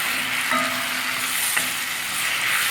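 Chopped tomatoes are stirred into sautéed onions in a pan for a quail roast, under a steady loud sizzle with a couple of faint spoon scrapes.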